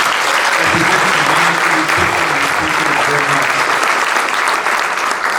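An audience applauds at a school district's end-of-year faculty awards, steady loud clapping from a full room that holds evenly throughout, with a faint murmur of voices underneath.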